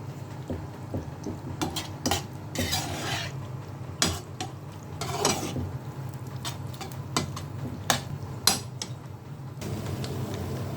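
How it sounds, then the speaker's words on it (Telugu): Macaroni stirred into milk in a pan for chicken macaroni pasta, with repeated clinking and scraping of a spoon against the metal pan in an irregular rhythm over a low background hum, close and fairly loud, no talking. "ఇలా మొక్కరని వేసుకుని కలిపిపోవాలి"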